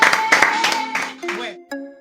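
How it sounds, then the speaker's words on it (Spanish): A few pairs of hands clapping in quick bursts, close and uneven, with a voice and a bell-like tone mixed in toward the end. "Oye, un aplauso"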